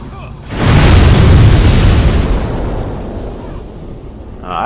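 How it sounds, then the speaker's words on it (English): A thrown bomb detonates in Demon's Souls, a sudden loud deep boom that rolls out and slowly fades into a rumbling tail. "throw that bomb, fool"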